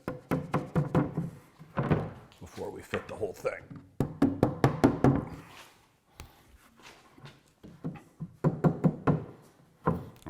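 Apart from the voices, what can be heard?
knocking tongue-and-groove wooden backboard into bookcase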